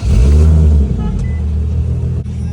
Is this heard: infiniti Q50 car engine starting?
yes